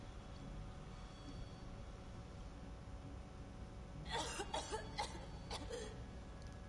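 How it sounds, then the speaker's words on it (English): A person coughs several times in a quick burst near the end, after a stretch of low steady background hum, with a faint murmur of talk. "why are you still coughing?"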